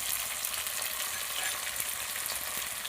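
Chopped tomato, coriander leaves and chilli powder frying in a pan, a dense, even hiss of sizzling oil with faint stirring, steady and close throughout without speech.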